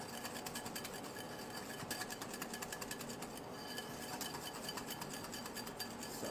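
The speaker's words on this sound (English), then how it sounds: "we're gonna give this a nice whisk" A whisk rattles rapidly against a bowl while stirring a meatloaf mixture with Worcestershire sauce, a quick continuous clinking scrape, fairly quiet and close with no voices.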